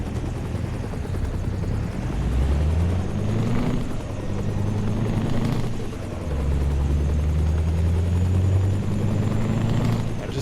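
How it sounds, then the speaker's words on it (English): A helicopter passes overhead in the Euro Truck Simulator 2 driving game, its steady rotor drone rising and falling in pitch above a constant wash of road and engine noise. "like the helicopter that's overhead right now"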